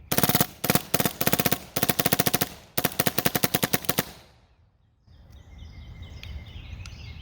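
A lightweight paintball marker fires on full auto in rapid bursts of sharp, closely spaced pops, loud and near, with short pauses between strings. It then trails off into quiet rustling.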